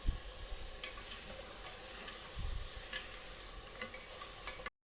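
Whole spices and garlic fry in a pot for chicken kabsa, giving a dense, continuous close sizzle with faint stirring ticks throughout, cutting off abruptly at the end.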